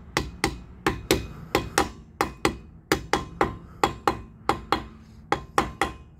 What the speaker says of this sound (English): we're gonna go ahead and start gently tapping it around